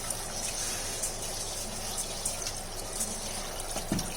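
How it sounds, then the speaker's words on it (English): Tap water runs steadily into a container as it is collected for watering terrace garden plants, a soft continuous splashing gush at low level with faint clinks. "I'm collecting this water to give it to my plants."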